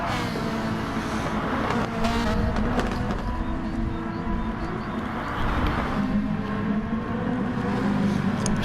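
Race cars, including an orange HKS Ferrari, lapping Autopolis International circuit in a racing video game: steady roaring engines with passing whooshes and revving, a continuous loud motor drone throughout.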